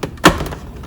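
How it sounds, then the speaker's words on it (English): A plastic interior trim piece on a Mercedes G500 W463 pops free of its clips with a single sharp, close snap and thunk, followed by faint handling noise. "That's the sound of it unclipping."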